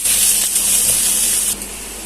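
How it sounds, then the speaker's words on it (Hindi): Chicken hitting hot oil in a karahi pan for restaurant-style chicken karahi, a loud, continuous sizzling hiss that fills the moment, then drops slightly toward the end. "अब हम इसमें चिकन डाल देंगे और 2 से 3 मिनट तक इसे फ्राई करेंगे।"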